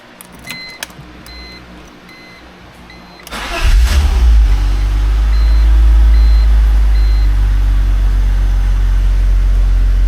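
A BMW E46 with an automatic transmission starts up: soft electronic chimes and clicks, then the engine cranks and catches, settling into a loud, steady idle close by.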